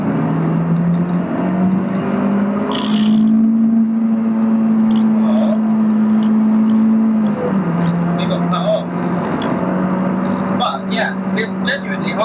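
Honda Civic EP3 Type R engine humming while driving on the road, its tone rising and falling with revs under steady road and wind noise, with a person talking over it.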